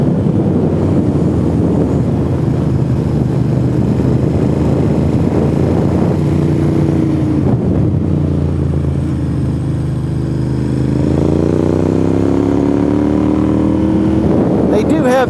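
A motorcycle engine drones steadily under heavy wind buffeting on a helmet microphone while riding NC 28 toward Deal's Gap, with a rider talking over it throughout.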